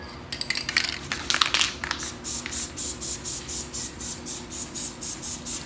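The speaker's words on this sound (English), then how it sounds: "I'm gonna put down a little spray tack." Several short hissing bursts of aerosol spray tack onto a screen printing pallet, followed by a regular pulsing rhythm of faint scraping sounds.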